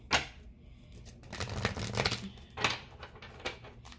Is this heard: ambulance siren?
no